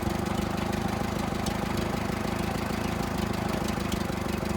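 A freshly rebuilt engine on a Massey Harris 444 tractor runs at a steady idle, with an even rumbling chug and pulsing exhaust, close and continuous with no talk.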